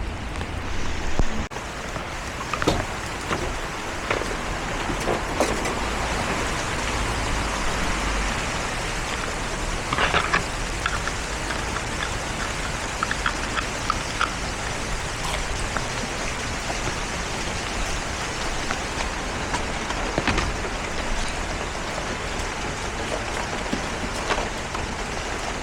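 Steady rain falls and patters on surfaces at an outdoor cleanup site, with a constant, moderate hiss and occasional louder drops and no talking.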